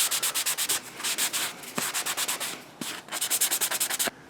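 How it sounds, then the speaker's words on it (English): Fine sanding by hand on a plastic prop piece for a Fifth Element cigarette dispenser, a rapid run of short rhythmic rubbing strokes with brief pauses between bursts, close and steady, with no talking. "I'm going to give this a little bit of fine sanding"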